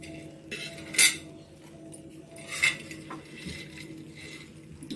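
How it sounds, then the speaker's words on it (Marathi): Soya chilli is stirred in a pan, with two sharp metallic clinks of a spoon against the pan over a quiet background of light scraping. "चांगलं ढवळून घेते त्या भाजीमध्ये."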